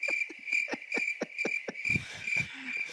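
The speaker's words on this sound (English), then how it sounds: "Crickets." A crickets chirping sound effect plays a steady high trill with soft low hoots and pulses beneath it, continuous and fairly quiet.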